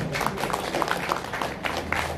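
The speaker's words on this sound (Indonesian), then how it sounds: "Tepuk tangan untuk kita semua" A small group claps at a community gathering, a brief patter of scattered hands lasting a couple of seconds over a low background hum.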